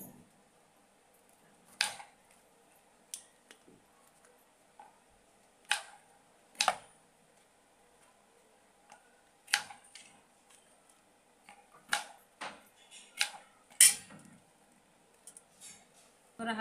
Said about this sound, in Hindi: अब सबसे पहले हम तुरैया को थोड़ा साफ कर लेंगे काट करके।